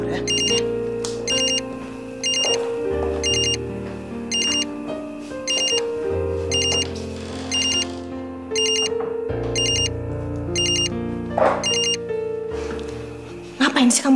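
A phone rings over a dramatic soap-opera music score, its bright electronic trill repeating in regular bursts for the whole stretch while the music runs beneath.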